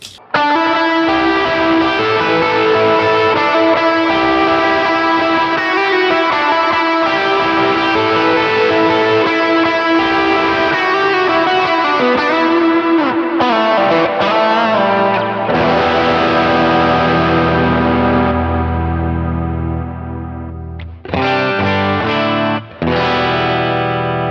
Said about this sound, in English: I typically run that with delay and reverb, and that gets you a nice lead sound